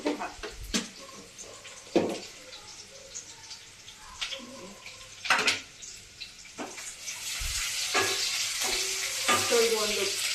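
Curry leaves sizzle in hot oil for a Hidkid avarekai saaru, crackling in a faint steady fry broken by several sharp stirring clacks, with a brief voice near the start and a brighter sizzle building toward the end.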